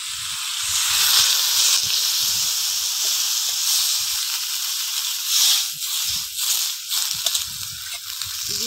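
A pan of shrimp and Malabar spinach hisses loudly and steadily as water hits it, a broad close sizzle swelling at first and then bubbling and crackling unevenly toward the end.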